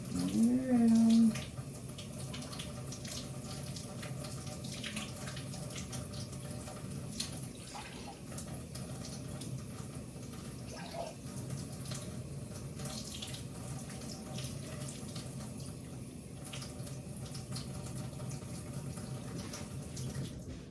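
A kitchen sink tap runs in a faint, steady stream for about twenty seconds after a brief louder clunk at the start, with light household noises in the background.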